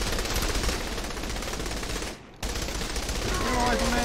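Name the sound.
gunfire in Saints Row The Third video game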